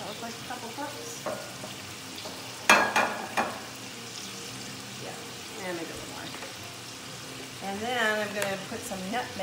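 Half and half being stirred into a shrimp fettuccine sauce in a hot pan, a low sizzle with scraping stirs and a few sharp clinks, while a person talks quietly in the background.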